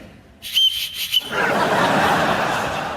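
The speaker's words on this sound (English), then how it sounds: "you produced that whistle" Shrill blasts from a handheld emergency survival whistle, offered as a gadget gift, sound loud and close over about a second, then give way to a steady broadband wash of noise.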